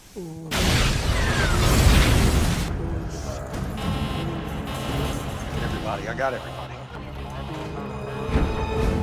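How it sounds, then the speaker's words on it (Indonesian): Car explosion outside a prison in a film scene: a sudden loud burst and boom, then crackling debris and mechanical clatter fading into a sustained rumble with some tonal film sound. "tiba-tiba di luar penjara, sebuah mobil meledak"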